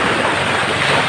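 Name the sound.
waves at the sea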